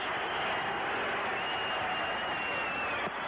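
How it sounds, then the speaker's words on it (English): A football stadium crowd at a 1977 Denver Broncos at San Diego Chargers game produces a loud, steady roar with scattered applause throughout. "Morton wants the crowd to hold it down and now heads back toward the huddle with all the noise"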